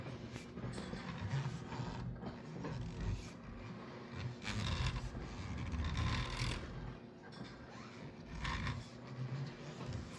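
Steering on a Can-Am X3 fitted with an SATV EZ Steer 600W power steering unit, turned open-handed, gives a steady run of mechanical whirring, creaking and ratchet-like clicks, moderately loud throughout with no talk.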